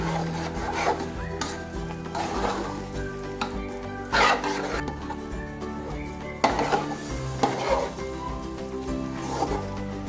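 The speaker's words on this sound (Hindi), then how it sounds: "अब इसको हम भून लेंगे।" Coconut halwa mixture with sesame seeds being roasted and stirred in a pan: a steady close scraping and rubbing texture with a soft sizzle, broken by louder periodic strokes of the spoon about every couple of seconds, with no talking.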